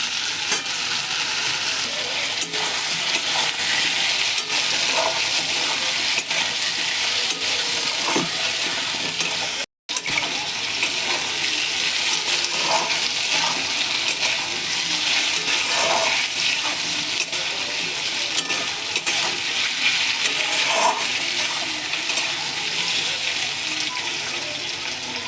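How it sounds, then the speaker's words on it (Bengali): Potatoes sautéing in a pan for a fish curry with vegetables, a steady close sizzle and fry throughout with faint scraping stirs, briefly cut out for an instant midway. "মাছ রান্নার জন্য আলু কষা চলছে"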